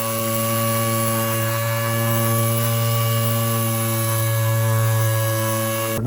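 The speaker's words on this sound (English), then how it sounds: "So this is surprisingly easy to take off with a sander." Power sander working the plastic bodywork of a 1982 Suzuki RM 250, a steady close motor whine with a strong constant hum that holds level throughout, no voices over it.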